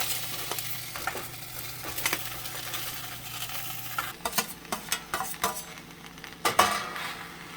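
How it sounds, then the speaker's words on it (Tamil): Finely chopped strawberries are stirred in a pan for jam, with a steady soft sizzle under repeated scraping and clinking of a spoon against the pan, close and quiet, with several sharper knocks near the end. "இதை சட்டியில் போட்டு கிண்ட போகிறோம்"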